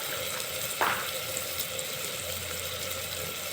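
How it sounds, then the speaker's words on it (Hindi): Water poured into a hot pan of frying masala spices with turmeric, coriander, chili and cumin powders, a steady sizzling hiss with a brief splash near the start, close and continuous. "हल्का इस में पानी डाल दें मसाला भूनने खातिर"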